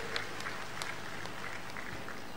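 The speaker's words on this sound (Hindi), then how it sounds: "दोनों हाथ ऊपर उठा के ताली बजा के उनका स्वागत कीजिए" A crowd at a political rally in Hoshangabad with Chief Minister Shivraj Singh Chouhan claps to welcome guests, a dense, steady applause heard faintly from a distance, with a few sharper claps standing out.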